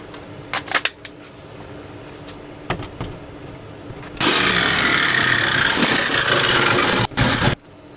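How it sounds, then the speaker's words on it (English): Battery jigsaw cutting a hole in a step van's metal body, first a few sharp knocks and clicks, then a loud continuous rasping saw burst for about three seconds with a brief stutter before it stops. "The jigsaw is definitely the way to go."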